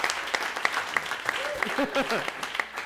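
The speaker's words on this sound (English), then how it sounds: "So a big hand of applause to Mike Abramson and Hudson Theaters." Audience applause in a theater during a community town hall, heard as scattered, fairly regular claps mixed with a murmur of voices.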